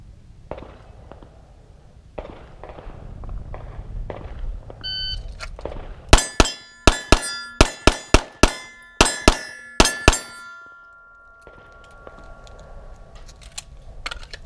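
Rapid gunshots strike steel shooting targets, about ten sharp ringing clangs in quick succession with some metallic ring-out, preceded and followed by quieter handling sounds.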